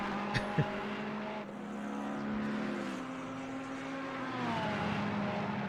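Race car engine in the pits at a GT3 championship event, a sustained revving drone that rises and falls over several seconds with a couple of sharp clicks near the start, with no voices.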